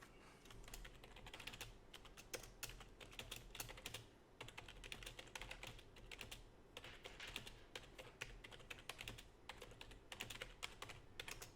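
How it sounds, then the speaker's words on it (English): Steady rapid typing on a computer keyboard, close and continuous with dense irregular keystrokes and only a brief pause. "I'm typing."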